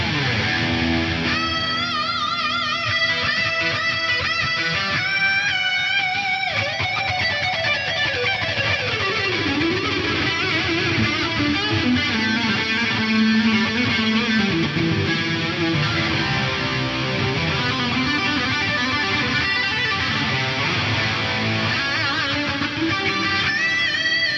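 Lead guitar with a USA-style mid-gain amp tone, tape chorus, dual-head tape delay and a vast mausoleum reverb, playing a sustained melodic line with bends that swells and trails into long washing echoes, alone without talk.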